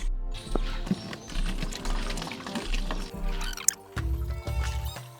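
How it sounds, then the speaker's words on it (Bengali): Milk poured from a big bottle into a smaller bottle on a farm, a close gurgling pour in several uneven glugs with brief pauses and a faint background voice. "আমরা এই বড় বোতল থেকে ছোট একটা বোতলে দুধটা ঢেলে নিচ্ছি।"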